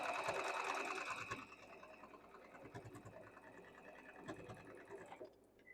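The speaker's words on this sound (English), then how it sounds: "Let's sew that again." Sewing machine stitching a modern quilt block, starting with a fast, busy burst of stitching. It then settles into quieter, uneven runs of needle clatter before stopping.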